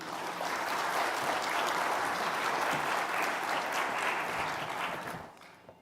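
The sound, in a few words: audience applause welcoming a speaker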